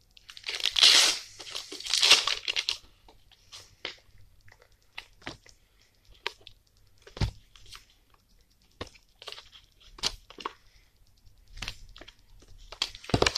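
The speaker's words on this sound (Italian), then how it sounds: "Apriamo il pacchetto velocemente" A foil sticker pack is torn open quickly up close. Bursts of crinkling and ripping come first, then scattered sharp crackles and clicks as the wrapper is pulled apart and handled.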